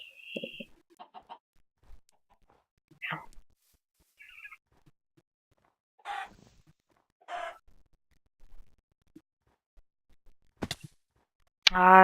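Chickens in a video game give scattered short clucks and squawks, spaced apart over near silence, with a sharp louder burst at the very end.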